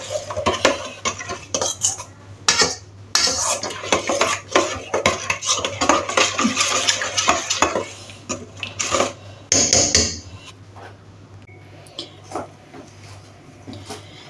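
A utensil stirring beans in escabeche in a pot, busy clattering and scraping of metal against cookware for about ten seconds before tapering into quieter occasional clinks, close and loud with no talk.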